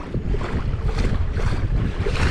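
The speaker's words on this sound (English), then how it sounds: "Guys, forgive the wind because it's blowing and it's the end of the day" Strong wind buffets the microphone out on the water during late-day kayak fishing from an Old Town Autopilot 136 kayak, a loud, continuous roar with gusty swells and no talking.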